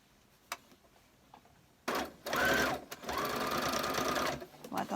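A sewing machine stitches fabric in two bursts of whirring, the second longer and steady, with a few faint clicks beforehand and light talk in the room.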